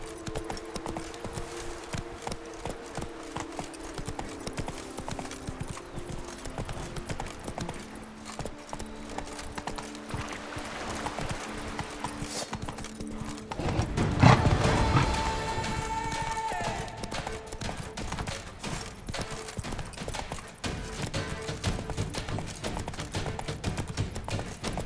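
Hooves of the horse Roach clip-clop at a gallop across The Witcher 3 game world, a fast, continuous rhythmic patter with a louder crashing burst midway, while game ambience plays underneath.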